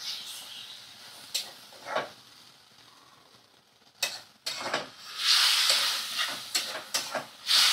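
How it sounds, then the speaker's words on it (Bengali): Water splashed into a hot frying pan of browned food bursts into loud hissing sizzle and steam, with scattered spitting crackles and a few stirring scrapes, close and without talk. "এবার আমি একটু সামান্য জল দিয়ে দেব"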